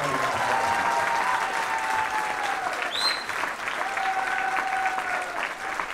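Audience applause at a product launch event for makeup products, a dense steady wash of clapping sustained throughout, with faint background voices and a brief whistle-like tone midway.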